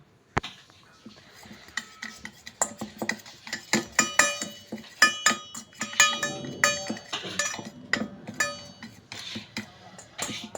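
A metal spoon clinks repeatedly against a bowl while mixing turmeric, salt and red chilli powder, with sharp, irregular taps and scrapes close by, some faint background noise underneath.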